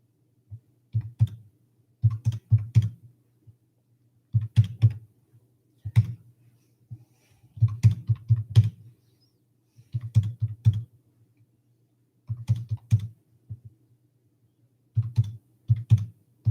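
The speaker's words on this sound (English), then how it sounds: "What matters is that you are accurate with the numbers that you are typing." Numbers are tapped out on a computer keyboard in short, clustered bursts of crisp key clicks separated by brief pauses, close and clear in a quiet room.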